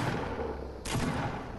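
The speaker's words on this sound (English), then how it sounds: "Oh, I'm getting shot at now," A single sharp shot cracks partway through, fired at the player in the Fortnite battle royale game, over a constant loud background wash.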